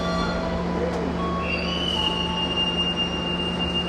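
A train waits at Jenar station preparing to depart, with a steady rumbling hum, a faint thin high squeal drifting in and out, and indistinct voices in the background.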